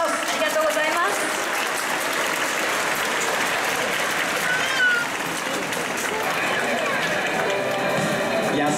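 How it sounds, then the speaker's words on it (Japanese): Stadium crowd applause at a baseball game honoring an actress after her ceremonial first pitch, a broad, continuous wash of clapping and crowd noise with talk mixed in underneath. "改めて大きな拍手をお願いします"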